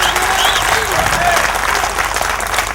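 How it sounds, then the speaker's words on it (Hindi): An audience claps loudly and steadily for a few seconds as a dense, continuous patter, with speech heard over the applause. "एक बार जोर से तालियां बजाकर उनको बोला"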